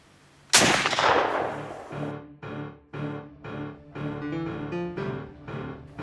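A single loud rifle shot cracks close by during an October deer hunt, then rolls away in a long decaying echo, followed by a series of rhythmic tonal bursts with no talking.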